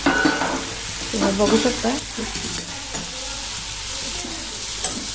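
Garlic sizzling and frying in a pan while being stirred, a continuous hiss broken by scraping stir strokes, close up, with a voice speaking briefly over it.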